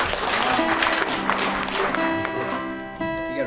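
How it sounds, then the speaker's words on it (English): Audience applause at a concert in Tyringham Union Church, a steady patter of clapping at moderate level that thins out toward the end, with faint lingering tones beneath it. "You got applause for it."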